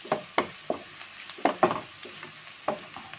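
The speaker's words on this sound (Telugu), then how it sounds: "ఇప్పుడు నేను టొమాటోస్ వేసుకుంటున్నా" Four tomatoes tipped into browned onions frying in a pan for paneer cashew butter masala curry, a series of soft plops and stirring scrapes at uneven intervals over a faint sizzle, close by and without talk.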